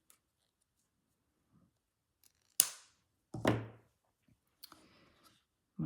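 Sharp scissors snip thread during slow hand-stitching on a miniature mouse-house couch: a few quick, close, crisp cuts separated by quiet pauses.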